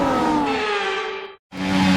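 Formula 1 cars in F1 24 on a formation lap, a loud sustained engine whine that slides down in pitch, cuts out briefly, then returns at a steady tone.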